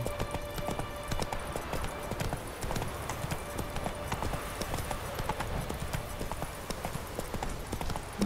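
Horse hooves clip-clopping at a steady riding rhythm in The Witcher 3 video game, continuous and fairly close, with a light bed of ambient game sound and no talk over it.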